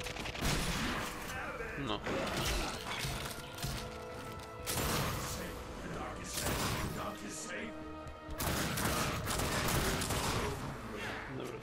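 Gunfire from The Darkness 2 rattles in repeated bursts with crashes and thuds, loud and dense throughout, under a voice talking.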